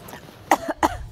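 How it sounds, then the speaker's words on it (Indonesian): Two short, sharp coughs in close succession, fairly near, over a quiet background. "Kok batuk? Ada batuk."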